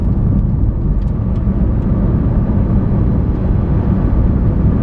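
A Lamborghini Aventador in automatic mode drives along with a steady, loud engine and road roar, a constant broadband rumble that never lets up and carries no talk.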